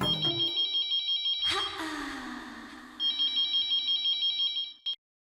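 Telephone ringing on an outgoing call, a close electronic double-trill ring repeating in bursts, with a brief voice and background noise between rings before it cuts off.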